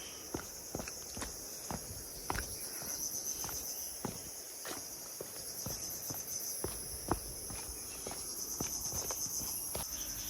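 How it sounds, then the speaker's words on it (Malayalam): Crickets chirp in a steady high, dense drone along a deserted path to a waterfall near Sohra, Meghalaya, while regular footsteps crunch close by throughout. "കുറച്ച് ചീവീടുകൾ മാത്രമുണ്ട്. അതിൻ്റെ ശബ്ദം മാത്രം കേൾക്കാം."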